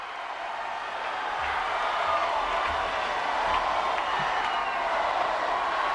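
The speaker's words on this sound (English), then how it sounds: "And you hear that Tide crowd rolling." A home Alabama Crimson Tide crowd at an NCAA women's gymnastics championship cheers in a sustained, distant-sounding roar that swells slightly across the arena.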